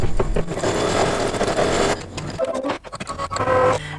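A sewing machine stitches a placement line for lining on an advent calendar craft project, running in a dense, continuous whir that breaks into short stuttering bursts near the end.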